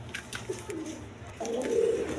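Quality pigeons in a loft coo softly, a few low murmuring calls building into a fuller rolling coo near the end, close but faint.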